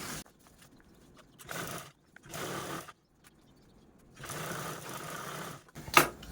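A sewing machine topstitches along a zip on fabric from an old saree, running in several close, rapid whirring bursts separated by short pauses.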